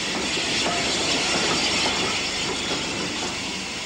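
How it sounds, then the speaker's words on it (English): A grimy unrebuilt Pacific steam locomotive calls at Basingstoke station, a steady hissing rumble of steam and rolling stock with a faint rhythmic clatter throughout, no voices. "a somewhat grimy unrebuilt Pacific Wilton calls at Basingstoke"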